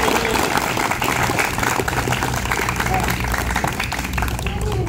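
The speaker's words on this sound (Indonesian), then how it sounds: "tepuk tangan dong buat Mas Denny" Women at a training session clap together for a visiting guest, a dense, even patter of applause mixed with crowd murmur and voices.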